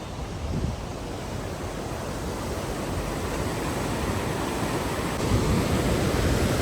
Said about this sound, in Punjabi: ਇੱਥੇ ਆ ਕੇ ਦਰਿਆ ਦਾ ਵਹਿਣ ਬਹੁਤ ਤੇਜ਼ ਹੋ ਗਿਆ